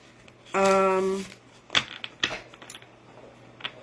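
Oracle cards are shuffled by hand, making a run of crisp, uneven riffling clicks and taps close by. A brief spoken sound comes just before the shuffling.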